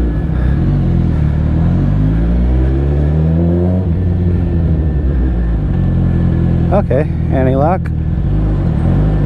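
Suzuki GSX-S1000 motorcycle fitted with a Two Bros exhaust, a loud close engine rumble with rising and falling revs under a rider's brief talk.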